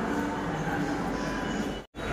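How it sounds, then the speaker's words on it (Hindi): Metro station platform ambience while passengers wait for a train that has not yet arrived: a steady, busy rumble and hum with faint indistinct voices, briefly cutting out near the end. "आ गई हूँ मैं मेट्रो स्टेशन पर, और मैं जा रही हूँ मेट्रो ट्रेन पकड़ने के लिए।"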